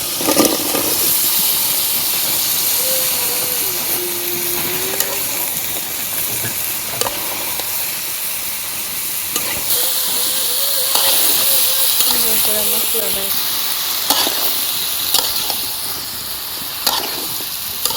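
Spices sizzle and hiss steadily in a hot pan as bottle gourd is added during village-style cooking of gourd with chicken, with a continuous close frying crackle, brief tonal bits of voice and occasional clinks of stirring.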